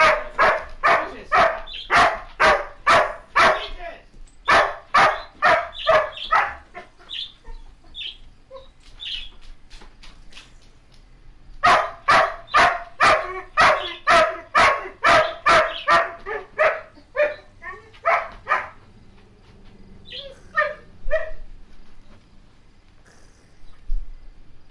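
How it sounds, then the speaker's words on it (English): Several dogs bark at home in rapid, loud volleys: two long bursts of repeated barks separated by shorter scattered yaps, close by, with no talking. "Dogs have been barking non-stop."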